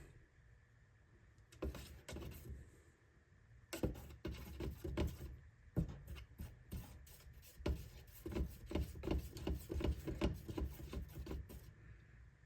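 Paint is stirred in a partially filled can, giving faint, irregular scraping and knocking strokes that start and stop in uneven bursts against a quiet background, no talking.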